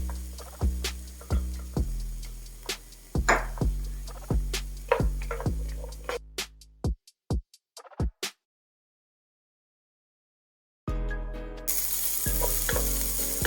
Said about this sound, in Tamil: பாருங்க, இப்போ நல்லா வதங்கிடுச்சு